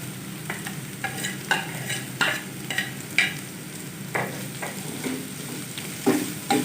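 Boiled, finely shredded chicken fries in a pan with a low continuous sizzle, punctuated by regular scraping stirs and clinks of a spoon against metal.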